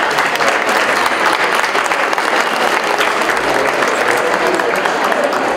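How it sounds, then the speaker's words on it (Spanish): Loud, dense applause for a teacher at a formal school ceremony, a sustained even roar of many hands clapping together without a break. "Fuertes los aplausos para la maestra."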